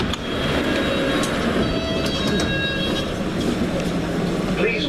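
A London Underground Hammersmith & City line train, S stock, rumbles steadily with a low, continuous roar and faint high squeals, loud and close throughout, with a voice briefly talking over it.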